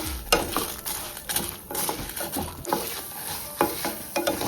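Onions sautéing in a pan with Kashmiri chili, a steady sizzle broken by repeated scraping and stirring strokes of a spoon against the pan, close and fairly loud, with no voices.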